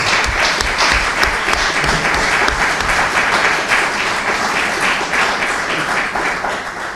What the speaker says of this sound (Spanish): ¿Hay algún aplaudimiento?